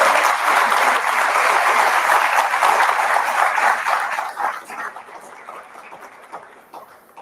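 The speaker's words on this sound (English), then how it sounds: "Please give him a very warm round of applause" An audience at the India Today Conclave 2024 warmly applauds the arriving Prime Minister of Bhutan: dense, loud clapping that holds steady for several seconds, then thins and fades to scattered claps.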